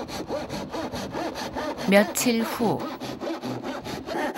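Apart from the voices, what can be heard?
hand sawing wood outdoors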